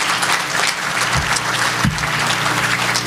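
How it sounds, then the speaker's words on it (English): Applause for the planning committee at a housing charity gala and awards evening, a dense, sustained wash of clapping from a large crowd that fills the whole stretch at steady loudness. "Let's give them another round of applause."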